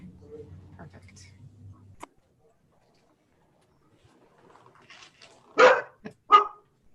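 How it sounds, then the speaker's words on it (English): Several dogs bark loudly in a couple of sharp bursts near the end, following some earlier low talk and a stretch of quiet at a public update briefing. "We have some dogs barking."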